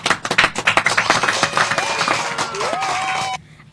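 Children at Brako School Complex in Akim Oda clap together, a dense burst of rapid, close hand claps over a lively classroom hubbub with voices and a rising tone, then cut off sharply near the end.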